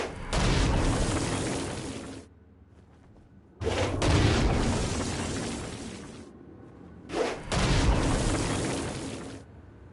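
Three loud, booming explosion blasts from the video game Saints Row: Gat Out of Hell, each a sustained roaring burst of a couple of seconds separated by quieter rumbling gaps, with no talking.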